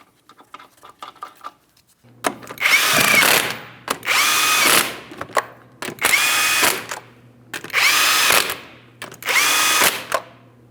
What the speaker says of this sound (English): continue on to all 5 of your 19mm lug nuts. We'll start them on, bottom them out